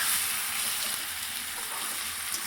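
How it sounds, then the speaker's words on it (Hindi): Fried brinjal going into a pan of simmering curry gives a steady, soft hiss and sizzle that holds evenly throughout, fairly quiet and close. "ये हमने डाल दिए फ्राई बैंगन।"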